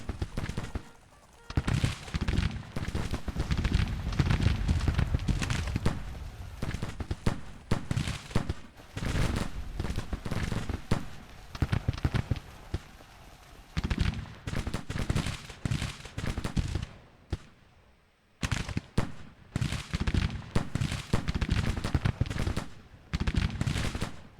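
Soldiers in a 1861 American Civil War strategy game open fire, sustained volleys of musket gunfire crackling in dense bursts with brief pauses, loud and continuous over the whole stretch.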